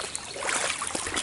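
Water trickles and splashes in a shallow creek while someone wades through it, producing soft, continuous close-up burbling with a few louder splashy steps and no talk.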